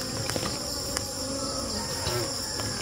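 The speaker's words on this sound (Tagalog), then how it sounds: "Maraming mga bubuyog pala sa punuan na ito." Bees swarm around a coconut tree outdoors, making a dense, steady buzzing hum that stays close and continuous throughout.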